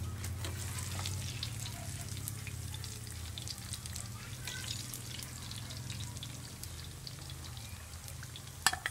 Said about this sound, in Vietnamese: Sườn muối chiên nó vàng, mình lấy sườn muối chiên ra trước.